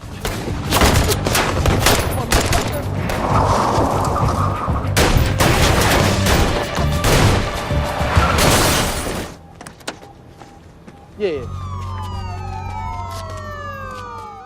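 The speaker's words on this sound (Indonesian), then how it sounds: "Dan baku tembak pun terjadi." A movie shootout with loud, dense bursts of gunfire that go on for about nine seconds. After a brief lull, wailing police sirens rise and fall.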